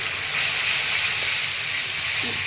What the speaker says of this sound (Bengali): একটু ভালো করে আমি কষিয়ে নেব।